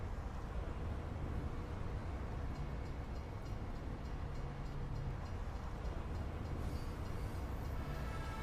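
A moving train in Team Fortress 2 rumbles steadily and continuously, a dense, even rolling roar at moderate distance with no talk over it.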